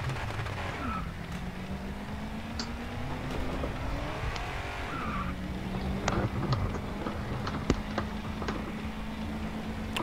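Racing car engine in GRID 2 drones and revs steadily with pitch sweeps, tires squealing in short bursts over a constant motor hum, loud and close throughout.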